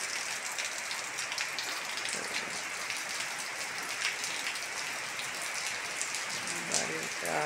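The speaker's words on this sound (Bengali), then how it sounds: "কত বৃষ্টি নামছে, বৃষ্টি।" Heavy rain pours steadily nearby, a dense, even hiss of drops on surfaces that holds at a constant level throughout, with a faint voice briefly audible near the end.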